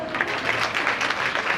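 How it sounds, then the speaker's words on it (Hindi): Audience clapping at a Shrimad Bhagwat Katha religious discourse, a brief burst of fairly close, irregular hand claps with no talk over it. "एक बार इसको ताली बजाओ"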